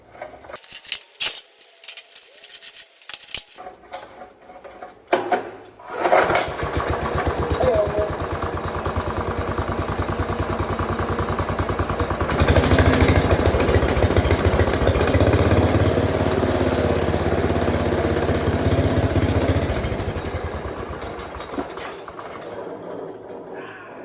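A Wheel Horse tractor engine with a homemade muffler built from 4-inch pipe sputters a few times, then catches and runs steadily at a loud, rough idle that revs up for a while before settling back down.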